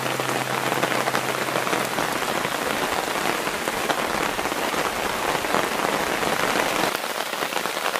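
Steady, dense rain pours down on a campsite where a Naturehike Girder Hexagon tarp is pitched, a continuous close hiss of drops striking surfaces for the whole stretch, with no voices.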